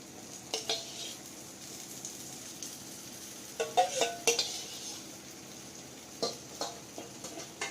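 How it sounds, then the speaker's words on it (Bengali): Spiced masala with yogurt is stirred in a pan over a low sizzle, a spoon scraping and knocking against the metal in irregular clusters of clinks and scrapes, with no speech. "দিয়ে আবারও ভালো করে মশলাটাকে নেড়েচেড়ে কষিয়ে নেব।"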